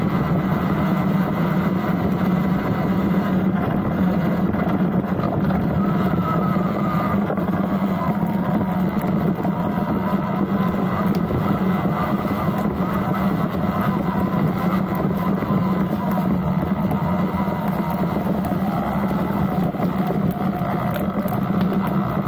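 A Talaria Sting electric bike rides through woodland, a loud constant motor drone and rushing noise filling the whole stretch without a break.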